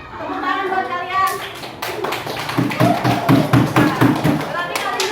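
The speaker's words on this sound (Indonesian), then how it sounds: "Tepuk tangan buat kalian." Children in a classroom break into a burst of clapping, a dense patter of hand claps that builds and carries on for several seconds after a teacher's brief speech.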